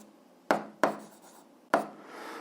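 Handwriting while working an 8th-grade algebra fraction exercise, with three sharp scratchy pen strokes spaced apart over quiet background noise.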